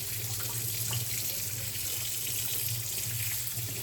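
Fresh trout being washed under a running kitchen tap, a steady close stream of water splashing into the sink throughout, with no voices.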